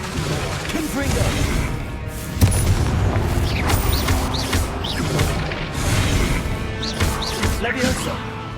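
Confringo spell blasts in the Hogwarts Legacy game, repeated booming explosions and crashes amid a busy combat soundscape, with voices calling out spell names between them.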